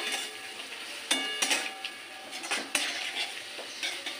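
Baby corn is stir-fried in a pan with chilli, cumin, coriander and turmeric powders, and a spoon scrapes and knocks against the metal in irregular clatters over a continuous sizzle.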